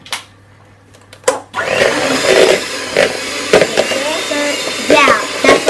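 An electric mixer beating icing sugar and lemon juice starts after a few clicks and then whirs steadily, its motor tone wavering slightly as it runs, with a voice speaking over it.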